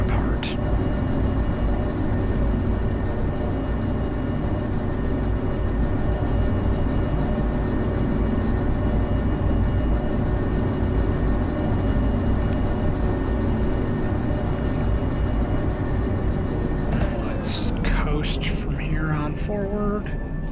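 Locomotives hauling tank cars in the railway game Derail Valley, a loud continuous rumbling engine drone with steady tonal whine, joined near the end by higher squealing wheel or brake tones.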